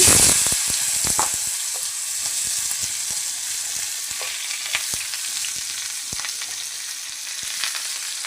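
Bitter gourd, potato and green chillies frying in an oiled pan, giving a loud, even sizzle with scattered crackles and spatula scrapes, strongest at the start and holding steady.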